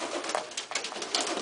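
Pigeons coo inside a pigeon loft, a dense, continuous layer of soft overlapping calls from several birds close by, with no voices.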